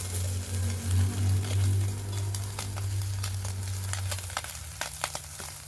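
Small chuno fish fry in hot oil a few at a time, making a close, crackling sizzle with sharp spits and pops. A low hum fades out partway through, and the pops grow more distinct toward the end.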